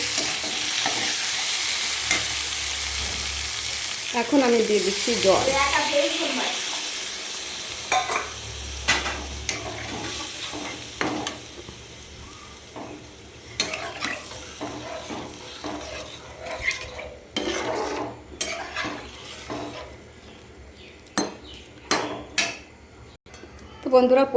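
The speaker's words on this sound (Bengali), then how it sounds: "সুন্দর করে নেড়ে চেড়ে দেখো কষিয়ে নিচ্ছি মাছ দিয়ে পোস্ত শস্য দিয়ে" Hilsa fish and poppy seeds are stirred and sautéed in a kadai, giving intermittent scraping, clattering and soft sizzling, with a voice speaking over parts of it.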